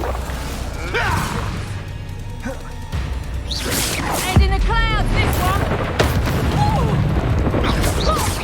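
Fiery Confringo spell blasts in the wizarding game Hogwarts Legacy hit with booming crashes amid combat clatter and spell effects, a sharp impact near the middle, dense and continuous throughout.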